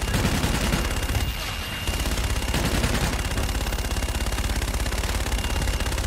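A fire-support strike in Call of Duty: Infinite Warfare pours out dense, continuous gunfire, loud and rapid volleys that barely pause for the full stretch.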